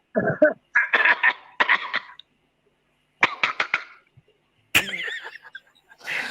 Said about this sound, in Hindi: मेरे को तो खांसी आ रही है